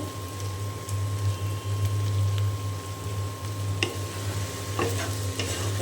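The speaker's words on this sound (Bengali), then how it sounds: "এখন খুব ভালো করে নেড়ে ছেড়ে দিয়ে আমি ভাজিটা করে নেব" Okra (ladies' finger) being stirred and fried in a pan with turmeric and salt: a steady sizzle with occasional spatula clacks against the pan, over a low steady hum, no talking.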